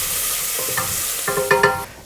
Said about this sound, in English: We're going to give this a stir and let it cook for about 1 minute